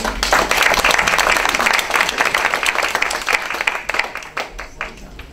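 A crowd at a Republican political panel applauds with dense clapping that stays full for a few seconds, then thins out to scattered claps and fades.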